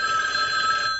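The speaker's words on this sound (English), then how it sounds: "We have to take another phone call. We'll let it ring twice." A telephone bell rings loudly and steadily for about a second, a bright sustained ring heard alone.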